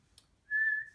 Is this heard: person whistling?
yes